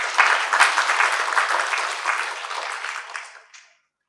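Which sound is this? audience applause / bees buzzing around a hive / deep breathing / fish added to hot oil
audience applause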